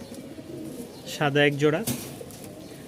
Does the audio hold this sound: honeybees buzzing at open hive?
no